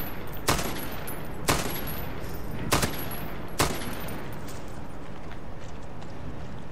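Four sharp sniper rifle shots in the video game Far Cry 6, each a loud, crisp crack spaced about a second apart over a steady low rumble of background ambience, with no talk.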